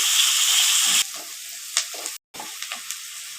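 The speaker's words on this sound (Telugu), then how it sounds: "ఉల్లిపాయలు ఎర్రగా వచ్చేంత వరకు వేపుకోవాలి." Thinly sliced onions with a little salt frying in a pan until reddish, a steady close sizzle that drops in level partway, with a few stirring scrapes and a brief silent gap.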